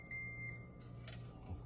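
A multimeter's continuity beep: a thin, steady tone sounding twice in quick succession, quiet and close, over a low electrical hum.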